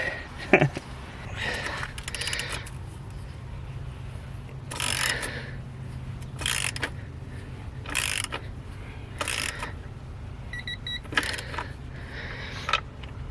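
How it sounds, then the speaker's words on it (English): Ratchet torquing the rear shock bolt on a 2007-or-later Honda CBR motorcycle: a series of short metallic clicking bursts repeat at irregular intervals over a low steady background hum. "Now we're just going to come to this side and torque this."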